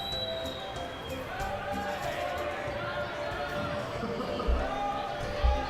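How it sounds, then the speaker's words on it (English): Crowd let into an anime convention at opening time, a dense murmur of many voices and shuffling footsteps with a couple of louder thumps near the end. "Here's a little clip of the beginning of the convention when they're letting in the first crowd."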